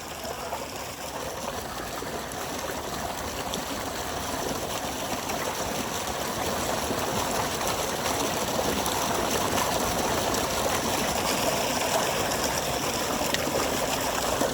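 Water gushes steadily from a tubewell outdoors, a loud, continuous splashing rush with a trickling, gurgling texture that holds unbroken for the whole stretch, with no voices.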